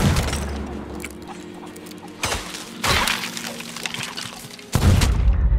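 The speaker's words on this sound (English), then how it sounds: "just died by gunshot" Gunfire in Sea of Thieves comes as a few sharp, loud blasts spaced a couple of seconds apart, with the last crack the heaviest, over a busy background of game noise.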